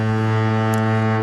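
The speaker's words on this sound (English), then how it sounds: "Foghorn." Deep, steady foghorn blast used as a sound effect, loud and sustained for its whole short length with no talking.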